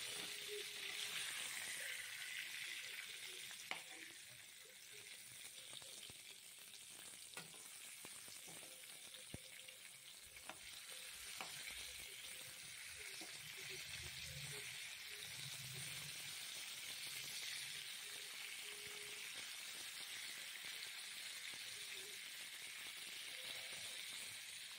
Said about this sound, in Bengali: এরকম করে ভালো করে লো ফ্লেমে ধীরে ধীরে ভেজে নিতে হবে।